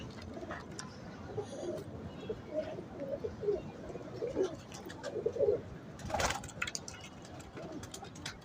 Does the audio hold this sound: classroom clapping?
no